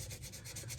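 Steady abrasive rubbing of sandpaper on an antler repair, continuous close scratchy strokes with a low rumble underneath and no talk.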